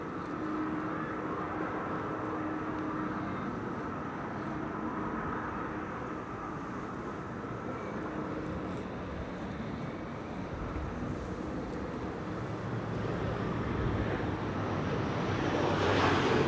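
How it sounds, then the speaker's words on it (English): An Embraer 175 jet arriving from Gothenburg at Amsterdam Schiphol Airport gives a faint, distant engine rumble that holds steady and then swells louder toward the end as the aircraft draws nearer. "Arrival for Gothenburg up next. Embraer 175."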